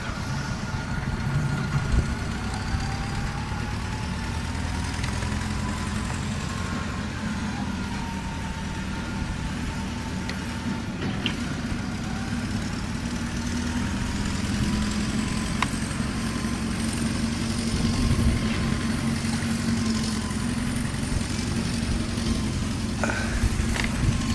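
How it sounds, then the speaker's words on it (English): A backhoe engine runs steadily throughout, a continuous low idling drone with faint higher whine, near and unchanging in level. "The backhoe is still running."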